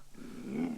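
A puppy in the adventure game Wrath of the Gods gives a short, low growl, close and fairly quiet, lasting under a second.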